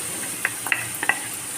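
Pureed tomato is poured into a pan of frying small dry fish, bringing a steady sizzle broken by a few sharp spits and clicks of stirring, close and moderately loud with no talk.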